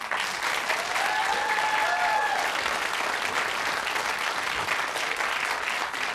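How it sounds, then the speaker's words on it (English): A television quiz show studio audience applauds steadily and loudly for six seconds, a continuous wash of clapping with a faint whistle-like tone near the start. "A big round of applause, please, for Jenny Wood."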